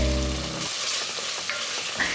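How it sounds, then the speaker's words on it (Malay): Ground cumin, paprika, coriander and a little turmeric sizzle and fry in a pot as they are sautéed, with close, continuous crackling and a few stirring scrapes after a short humming tone at the start. "Kita nak tumiskan bahan-bahan ni sehingga naik bau."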